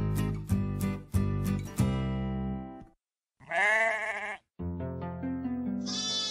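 Sheep bleating close by: several loud, wavering, nasal calls, the first few quick and overlapping, then longer single bleats after a short pause.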